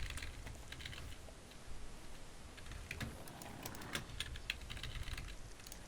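Rapid, faint computer keyboard clicks and key presses during a StarCraft II match, tapping in steady irregular bursts over a low background hum with no voices.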